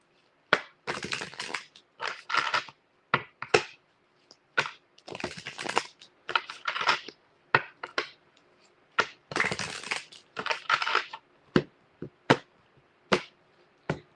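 Tarot cards are shuffled repeatedly in quick, crisp riffling bursts with short pauses between, close up, with no talking.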